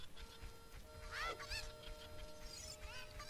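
A few squawking clucks from a cucco chicken in Zelda Ocarina of Time rise over faint game music and a hissy background, spaced out and fairly soft.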